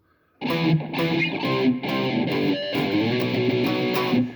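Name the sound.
distorted electric guitar playing two bars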